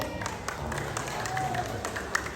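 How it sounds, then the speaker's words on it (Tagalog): A crowd of farmers at a Christmas party clapping: scattered, fairly soft claps over a steady murmur of background noise, with one brief sharper clap near the end. "Palakpak ba?"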